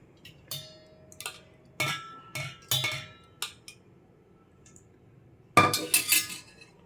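A metal spoon scraping and clinking against a small bowl while gravy for street-style masala puri is ladled in, a series of sharp close taps with pauses between, then a louder cluster of clatters near the end.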